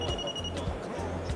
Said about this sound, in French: On entend un bip.